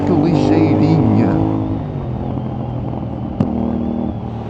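A CFMOTO 450NK motorcycle engine hums and revs while being ridden, a steady droning tone that eases as the throttle drops, with a sharp brief click midway and the rider's voice over it.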